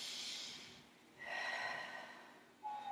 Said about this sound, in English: Can you take a deep breath for me?